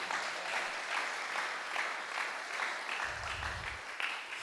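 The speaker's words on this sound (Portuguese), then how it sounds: "Quem pode aplaudir a Ele nessa noite?" A church congregation applauds during an evening service, a steady patter of many hands clapping at moderate distance for a few seconds.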